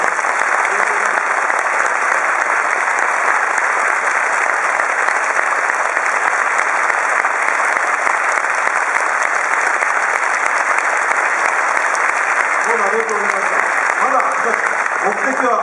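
Sustained audience applause at an outdoor national rally marking Sovereignty Restoration Day, dense, steady clapping filling the whole stretch at a loud, even level, with a few faint voices surfacing near the end.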